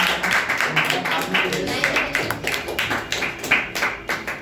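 An audience applauds at a storytelling competition, a steady run of many hands clapping at close range with a voice briefly audible over the applause.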